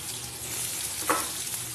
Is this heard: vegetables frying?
yes